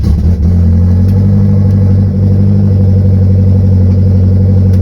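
A car with a broken clutch revs its engine in a loud, steady, close rumble that swells and holds throughout, with no talking.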